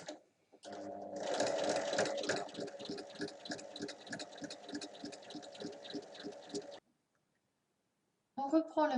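A sewing machine stitches the bottom of a zippered fabric bag to make a divider, a fast steady rhythmic whirring run of several seconds that stops abruptly, followed by silence and then a voice.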